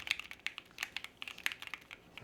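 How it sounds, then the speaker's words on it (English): Rapid keystrokes on a mechanical keyboard, crisp clicky taps in an uneven typing rhythm, close and fairly quiet with no voices. "Best sounding of the keyboards that I have, just being honest."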